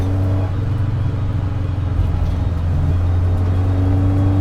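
A BMW 2002 with an M10 four-cylinder engine and a 4-speed drives past close up, its low engine hum steady and loud, with a slight shift in pitch partway through and no talk.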